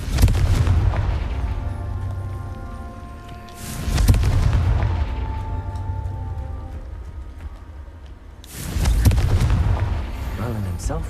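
Three heavy booming blasts from the Confringo fire spell in the video game Hogwarts Legacy, each loud and rumbling with debris crackle, spaced a few seconds apart with quieter game ambience between.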